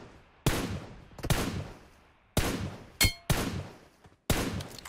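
Gunfire in the PUBG Mobile battle royale game: several sharp, loud bursts of shots spaced through the moment, each decaying quickly, with one brief metallic crack among them.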